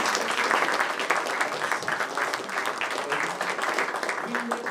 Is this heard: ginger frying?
no